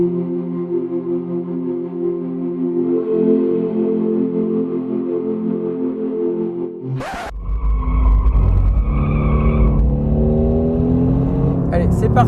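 A Mercedes AMG GT-R with 585 horsepower holds a steady engine drone on a race track, then erupts into a loud, close, rising acceleration roar partway through.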